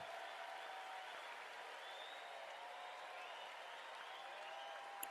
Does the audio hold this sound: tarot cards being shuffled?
no